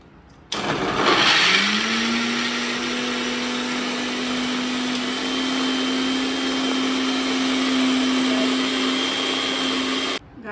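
A kitchen mixer grinder switches on, whines up to speed, grinds ingredients with a loud, steady electric drone for about ten seconds, then cuts off abruptly.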